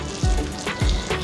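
A buttered sandwich set butter side down in a sandwich maker for a grilled cheese chicken sandwich, sizzling steadily and close by, with two brief louder bursts of frying hiss over the constant crackle.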